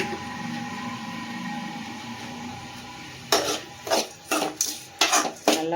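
Prawn masala being sautéed in a pan: a quiet simmer gives way to a series of close, rhythmic scraping strokes as a spatula stirs the mixture, about six distinct sweeps.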